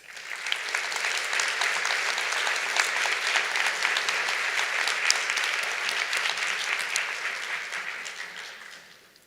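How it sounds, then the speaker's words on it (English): The inaugural class of 2021 of a pharmacy school applauding each other at a hooding ceremony, a steady, moderately distant wash of many hands clapping for about nine seconds, fading slightly at the end. "please give each other a round of applause"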